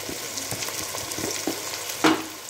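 Chicken and onions fry in a pan, giving a steady close sizzle, with scattered clicks of stirring and one sharper knock near the end.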